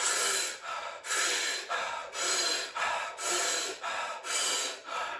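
Rapid, inhale-dominant over-breathing like after running uphill, about seven strong rasping inhales in a steady rhythm, each with a brief passive exhale, close and loud with no talk.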